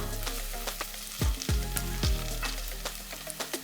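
Garlic frying in a pan for pizzaiola sauce, a steady close sizzle with a few deeper thumps as the pan is stirred or moved, no talking over it.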